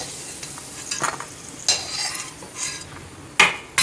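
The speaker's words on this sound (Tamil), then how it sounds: "இப்போது ஒரு மீடியம் ஃப்ளேமில் 3 to 4 மினிட்ஸ் வச்சு பூண்டு நல்லா ப்ரௌன் ஆகிடுச்சு" Garlic fries in a pan over a medium flame until brown while a utensil stirs it. A soft sizzle runs throughout, broken by several sharp scraping and clinking strokes against the pan, with no voices.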